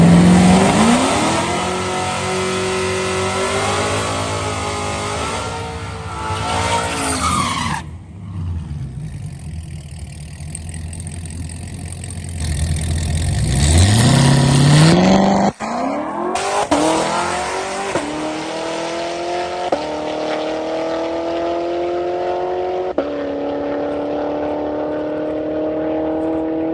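A 2019 Corvette ZR1 built to over 1000 hp roars hard down a drag strip quarter mile, loud engine climbing through rising revs with gear changes, then a drop-off and renewed, fading acceleration.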